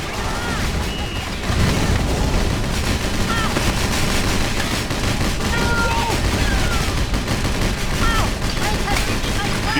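Dense, continuous gunfire and explosions fill a battle scene in the GameCube video game Battalion Wars, a steady roar of rapid shots with booms throughout, while voices may be heard beneath.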